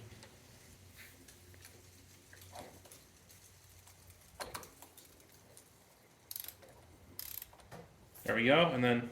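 A torque wrench clicks while tightening the gear oil drain plug on a Royal Alloy GT150 scooter, giving a few short, sharp mechanical clicks near the end alongside brief speech and low shop noise.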